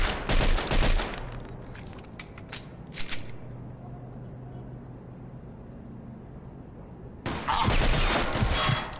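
Gunfire rings out in the crime game Mafia II: a rapid cluster of sharp shots, then a quiet stretch with a low hum, and a second loud volley near the end.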